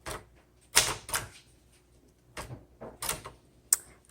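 Keys strike on a 1969 Royal Lark portable typewriter: a few loud, close mechanical clacks in uneven clusters, with quiet gaps between the strikes.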